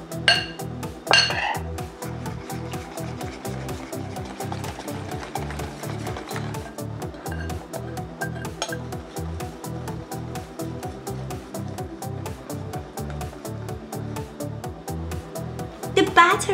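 Dry ingredients are stirred into aebleskiver batter in a bowl, a steady run of rhythmic clinks and scrapes from a whisk or spoon against the bowl that lasts throughout, with faint background music.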